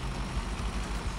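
Low, steady rumble of a truck engine running in the SnowRunner video game, a dense idling drone with faint pulsing, no talking.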